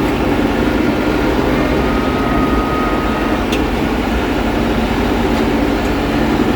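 A 1983 John Deere 2140 tractor used for feeding cows runs steadily, its loud continuous diesel rumble close and unbroken, with a faint whistle and a couple of brief clicks over it.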